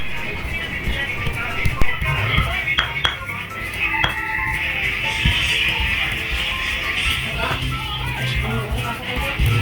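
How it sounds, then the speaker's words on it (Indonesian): Grinding with a stone mortar and pestle (ulekan), repeated scraping and knocking strokes with occasional sharper clacks, fairly close and steady throughout. "Ulek-ulek terus hingga merata bubuknya atau halusnya."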